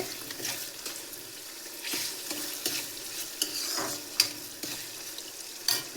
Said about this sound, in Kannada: ಇವಾಗ ಇದಕ್ಕೆ 1 ಸ್ಪೂನ್ ಸಕ್ಕರೆ ಹಾಕ್ತಿದ್ದೀನಿ. ಇದನ್ನು ಚೆನ್ನಾಗಿ ಮಿಕ್ಸ್ ಮಾಡ್ಕೊಳ್ಳಿ.